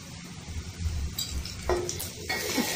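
A spoon stirs onions and green chillies frying in a pan, making a soft steady sizzle with a few scraping and clinking strokes against the metal, close and moderately quiet with no talk.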